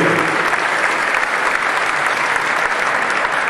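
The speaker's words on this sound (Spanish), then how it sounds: "Vaya el aplauso para todos ustedes" Sustained applause from an audience at a public event, steady and dense clapping filling the whole stretch without a break, no voices on top.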